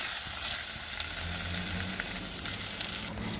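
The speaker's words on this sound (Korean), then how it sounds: "오일을 두르고 썰어 놓은 마늘과 양파를 넣고 볶아줍니다" Sliced garlic and onion stir-fry in hot oil, giving a steady, close sizzle with faint stirring scrapes throughout and no talking.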